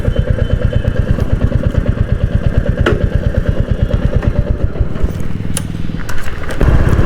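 Royal Enfield Classic 350 BS6 motorcycle idling at a workshop, a steady low thumping single-cylinder putter with fast even pulses, loud and close throughout, with a slight rev change near the end.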